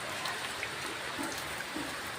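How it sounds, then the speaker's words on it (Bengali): Steady rain falling outside a home on Guru Purnima, a continuous even hiss of drops on surfaces with no talking. "আর এখনো বৃষ্টি পড়া বন্ধ হয়নি।"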